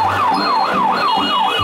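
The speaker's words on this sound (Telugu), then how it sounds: "అంబులెన్స్ ఇరుక్కుపోయింది, మనం ఇప్పుడు సహాయం చేయాలి." A cartoon ambulance stuck in a traffic jam blares a fast, loud wailing siren, its pitch sweeping up and down in quick repeated cycles.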